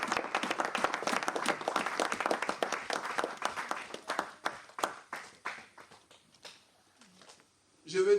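A church congregation breaks into applause and clapping during a sermon, a dense burst that thins out over several seconds, with a voice speaking over it.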